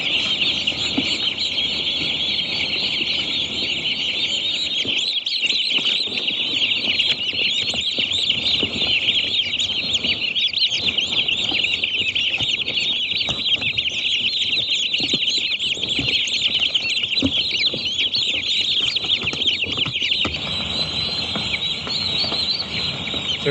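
Young turkeys newly arrived from the hatchery fill a farm barn with dense, continuous high-pitched peeping and clucking, many birds calling at once, steady and close throughout.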